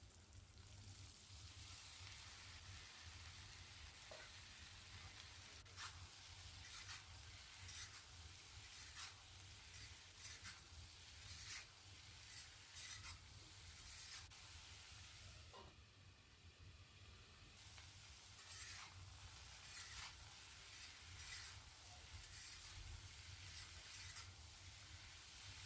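Potato pieces fry in hot ghee with green chillies, giving a constant soft sizzle and hiss. A spoon scrapes and stirs against the pan now and then in short, quiet taps and swishes, with no voices.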